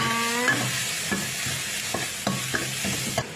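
Chili and garlic stir-fried in a pan give a close sizzle, with a few quick scraping stirs of a spatula against the metal.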